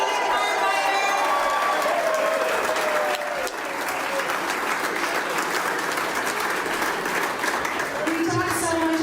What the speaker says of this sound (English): I want you all to give the biggest round of applause